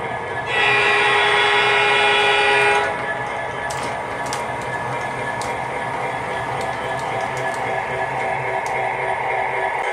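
An O scale MTH Premier Burlington Northern SD60M model diesel sounds a loud horn blast for a couple of seconds, then rolls on with a steady rumbling hum and clicking wheels as it runs a freight train.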